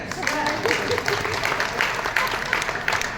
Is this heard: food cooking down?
no